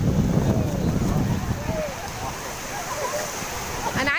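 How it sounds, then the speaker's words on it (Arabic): Sea waves wash onto the beach at Ras El Bar in the early morning, a steady rushing surf with wind noise, loudest at first and then easing, with a voice faintly underneath. "ده البحر وجماله."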